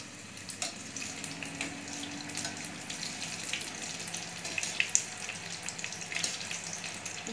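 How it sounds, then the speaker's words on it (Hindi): Balls of banana cookie dough deep-fry in hot oil over a medium-low flame, giving a steady close hiss with scattered light crackles and pops throughout, no voices. "ऑयल गर्म हो गया और सारे बेल के भी रेडी कर लिया, अब तलने के लिए रख देती हूँ"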